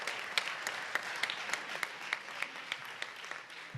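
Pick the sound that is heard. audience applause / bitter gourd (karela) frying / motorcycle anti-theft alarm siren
audience applause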